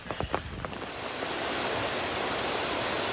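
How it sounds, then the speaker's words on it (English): Steady broadband rush of a waterfall beside the Appalachian Trail near a mountain gap, building from a few footfall-like knocks into a continuous, fairly close roar that holds to the end. "Nice little waterfall money shot right there."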